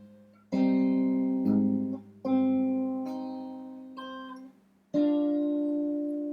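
Fingerstyle acoustic guitar plays a measure of a song, with four plucked chords struck in turn and each left to ring and decay, close and clear with no voice.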